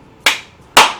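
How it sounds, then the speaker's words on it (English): Two sharp, loud hand claps about half a second apart, each with a short bright decay, sounding close up with no talking. "Clap, clap, clap, clap."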